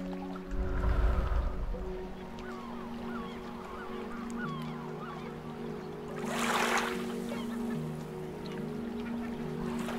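Gulls calling over a ship at sea, a run of repeated honking cries threading through steady low engine and water drone, with a brief burst of splashing or hiss near the middle.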